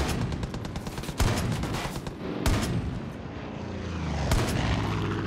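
Bursts of gunfire in Far Cry 5 aimed at a helicopter pilot, several sharp loud shots breaking through a continuous engine-like roar, with sporadic cracks spread across the stretch and no talking.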